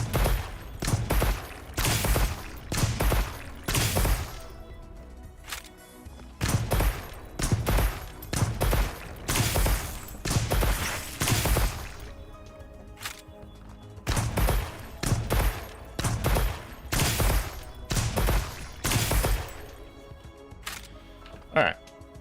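A Congalala heavy bowgun firing in Monster Hunter Wilds: repeated heavy, punchy bursts in clustered volleys with short pauses between groups, loud and close, with a voice talking over much of it.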